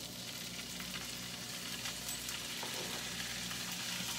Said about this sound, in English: So I'm going to dump this into my skillet